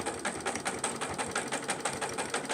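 Sewing machine stitching across a guest towel, a fast steady mechanical whirring and clattering with rapid even needle beats, close and fairly quiet, running continuously.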